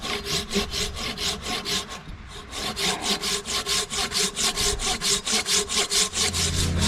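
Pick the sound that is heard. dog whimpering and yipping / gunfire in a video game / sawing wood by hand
sawing wood by hand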